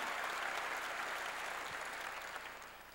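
A church congregation applauds in a dense, steady wash of clapping that fades slightly toward the end, with no voices heard over it.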